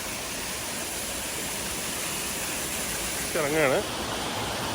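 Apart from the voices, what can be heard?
Rock Garden waterfall in Darjeeling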